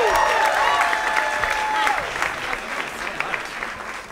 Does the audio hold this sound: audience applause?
yes